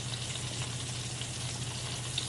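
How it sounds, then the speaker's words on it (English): Short ribs sear in a hot pan with a soft, steady sizzle and crackle. The frying noise is low and even across the whole moment, with no speech over it. "You can hear them sizzling and getting crispy in the background."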